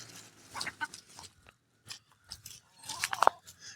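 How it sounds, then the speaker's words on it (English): Chickens eat dog food close by, with soft crunching and pecking mixed with a few brief clucks in an irregular, fairly quiet stream. "and those 3 eating the dog food."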